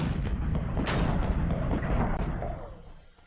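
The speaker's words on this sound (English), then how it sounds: "76mm gun. Look at it. Aim. Fire." A 76mm gun fires in the Minecraft MCHeli mod, a loud, heavy boom with a rolling low rumble that holds for a few seconds before fading away, with no talking.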